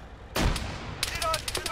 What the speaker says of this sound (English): I'm launching grenades